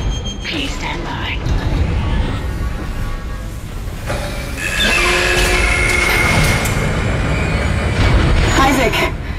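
A damaged tram car in the Dead Space video game rumbles along its rails with a steady, loud mechanical roar, metallic screeches and clanks rising midway, under ambient game noise.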